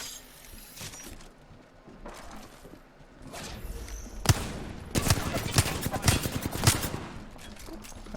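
Gunfire in Apex Legends comes as bursts of rapid automatic fire and sharp single shots, building in the second half amid clattering game effects, with a voice talking over it.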